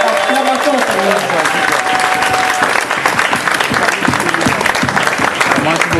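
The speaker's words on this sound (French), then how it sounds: "Give a clap to the Lord." A church congregation breaks into loud, sustained applause, dense clapping filling the whole stretch while a voice speaks over the start.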